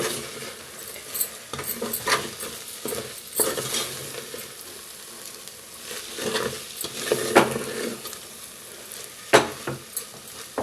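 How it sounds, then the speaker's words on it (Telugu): A cooked mung bean filling mixed with dried coconut powder and cardamom powder is stirred in a pan, with soft scraping, clinks of a spoon on metal and a faint sizzle repeating in uneven strokes, no voices. "ఇదంతా ఒకసారి బాగా కలుపుకుందాం"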